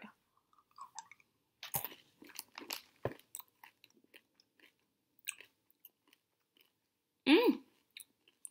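Someone chews and bites M&Ms candy up close, with quiet, scattered crunches and pauses and a brief hum of a voice near the end.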